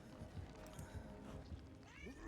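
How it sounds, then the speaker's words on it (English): A cat meows faintly somewhere in the room during a Dead by Daylight livestream, a short soft call barely lifting over a steady wash of game noise and background hum. "Who's meowing?"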